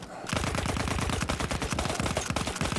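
Gunfire from a weapon in the Battlefield 1 video game comes in long, rapid automatic bursts, loud and close, with dense repeated shots that barely pause.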